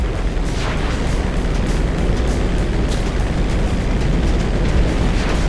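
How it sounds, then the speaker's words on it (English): In GTA V, rockets fire at a crop duster aircraft amid a dense, continuous roar of explosions and engine rumble, loud and unbroken throughout with no pauses. "You're firing rockets at a crop duster?"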